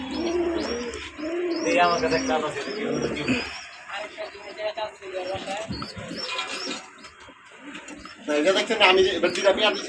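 Pigeons in a loft, many sitting on eggs or chicks, coo steadily and throatily up close while someone talks over the birds.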